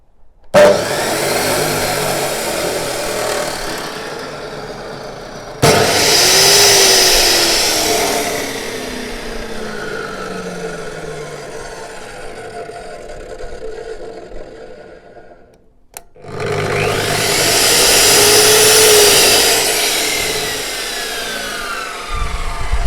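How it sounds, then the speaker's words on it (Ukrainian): Three metal-cutting power saws, including CS 22-355 and CS 24-355 S models, spin up one after another, each whining loudly as it runs, with quieter pauses between them as one winds down before the next starts. "я зараз по черзі увімкну всі три пилки"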